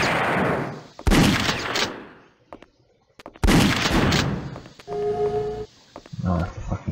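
Gunfire from the Alien Trilogy video game, with two loud, sharp blasts, each followed by a decaying tail, separated by quiet, then tonal game effects and a brief bit of a voice near the end.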